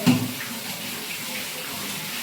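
Cold water runs steadily from a kitchen tap while dishes are washed, a loud, even rushing stream that starts with a brief splash and holds for the rest.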